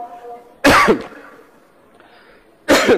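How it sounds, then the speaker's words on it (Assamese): Two harsh, forceful coughs close to the microphone, separated by a couple of seconds of quiet. "একেদিন এটা কাহ হৈছে বহুত দীঘলকৈ থাকে কাহটো"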